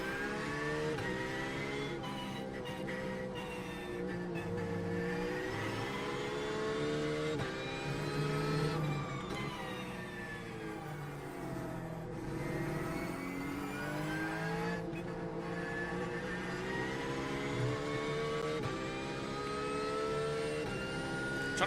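A Porsche race car in the iRacing sim racing game on a qualifying attempt, its engine droning and revving up and down through the gears, continuous and prominent throughout with brief lifts between pulls.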